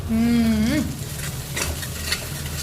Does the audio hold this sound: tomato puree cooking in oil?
yes